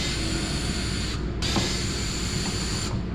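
A ratchet takes out 7 mm bolts on a Dodge Charger Hellcat rear bumper, producing steady close mechanical clicking and whirring for about three seconds, with a brief gap near the middle and no talk.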